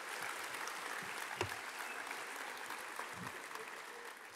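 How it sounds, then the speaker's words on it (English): Audience applause at a middle school promotion ceremony, honoring the school band, choir and orchestra: a steady wash of many hands clapping, moderately distant and fairly faint, with a few louder individual claps. "Let's give them another round of applause."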